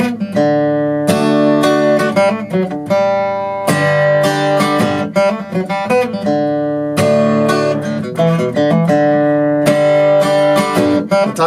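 Acoustic-toned guitar plays a riff, a busy run of quick picked notes and ringing chords in repeating phrases with brief pauses, close and loud with no talking.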